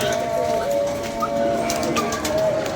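Pigeons coo in soft low murmurs close by under a steady hum, with brief voices and stray chirps mixed in.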